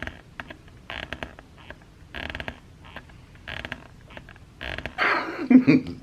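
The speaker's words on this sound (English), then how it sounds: "That's the sound of a new belt." New English bridle leather belt from Hermann Oak strap being flexed and handled close up, giving repeated creaking, rubbing bursts in an uneven rhythm, louder toward the end.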